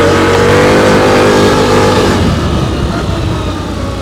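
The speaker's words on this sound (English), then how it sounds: "I'm sure you could hear the acceleration pick up faster." A 2024 CFMoto CForce 800 Touring utility vehicle engine revs up and accelerates close by, its pitch rising and then breaking into rough, throaty rumbling as it pulls away.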